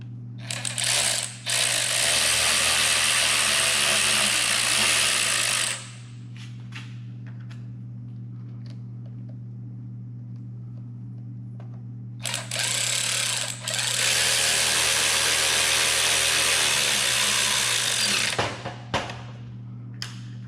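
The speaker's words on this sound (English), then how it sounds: "Now we'll put our 3 screws back in this." A Stihl leaf blower being reassembled as screws are driven back in, two long bursts of a whirring power driver separated by quieter handling clicks, over a steady low hum.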